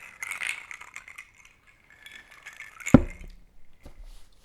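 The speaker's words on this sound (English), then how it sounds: "I hope it can hear the ice clinking in my cup right now." Ice cubes clink and rattle in a drinking cup with light scattered taps, then one sharper knock near the end, all quiet and close.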